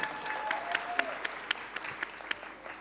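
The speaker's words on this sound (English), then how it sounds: "A round of applause, please." Conference plenary audience applauds an arriving speaker, a moderate crowd of claps with distinct sharp hits, a faint tonal whine early on, thinning out toward the end.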